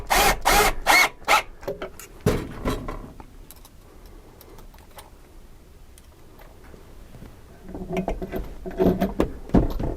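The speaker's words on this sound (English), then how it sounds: "these self-drilling screws here, or the self-drilling drywall anchors are the way to go." A power driver spins self-drilling drywall anchors into a wall, with loud bursts of whirring and clattering at the start and end separated by a quieter stretch of faint handling noise.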